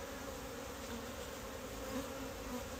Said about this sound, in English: I see a lot of bees with pollen on them, which is really good to see.